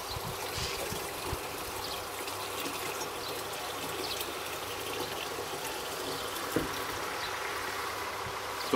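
Water poured into a measuring container while making a sugar mash for moonshine, a soft steady trickling stream heard close but faint, with a few small knocks along the way.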